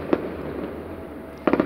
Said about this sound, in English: I'm at here watching fireworks.